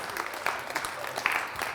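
Brief applause breaks out from a studio audience during a New Year's quiz broadcast, with scattered claps rising and falling over low murmur.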